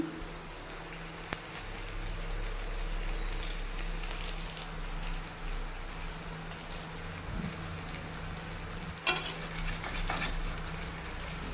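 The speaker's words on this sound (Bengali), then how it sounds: "বেলে মাছটাকে আমি আগে ভেজে নিচ্ছি সর্ষের তেলে।" Tube fish (bele fish) frying in mustard oil makes a faint, steady crackling sizzle, like light rain, with occasional soft clinks of a utensil.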